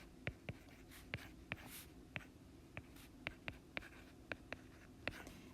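Math being written out by hand, probably pen on paper. Close, quiet scratchy strokes come with about a dozen sharp taps spaced irregularly across several seconds, with no talking.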